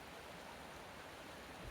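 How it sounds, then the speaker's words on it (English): A stream near a church runs with a steady, faint, continuous rushing of water and no voices over it. "Got the water running."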